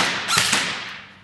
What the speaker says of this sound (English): KWA M16, semi-automatic,